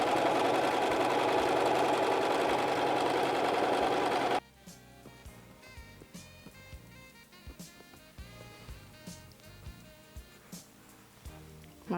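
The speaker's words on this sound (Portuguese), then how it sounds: "Sempre que for fazer o franzido, reduzir a máquina para o ponto maior." A dense, loud sewing machine run stitching a gather at its longest stitch length, then a quieter stretch of sparse mechanical clicks and taps as the fabric is handled.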